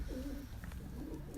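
A purebred breeder pigeon in a Lahore loft coos in a brief, low, rolling burble, close and fairly soft, with no talking over it.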